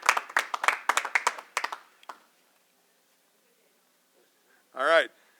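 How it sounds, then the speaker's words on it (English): A small group claps in brief, scattered bursts for Liam McGann at a Cuyahoga County early-voting event, dying out after about two seconds; a short tonal sound follows later. "Give him a round of applause"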